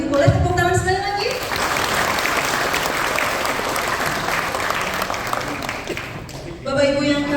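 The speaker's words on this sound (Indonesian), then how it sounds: "Bapak Ibu boleh tepuk tangan sekali lagi." A large audience at a Central Java alumni gathering and political declaration event breaks into sustained, dense applause lasting several seconds, with a voice talking briefly before it starts and again as it fades.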